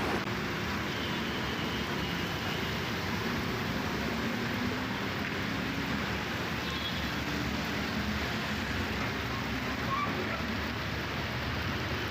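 Torrential cloudburst rain over flooded roads in Edappally, a loud, unbroken, broadband roar that holds steady throughout with no voices.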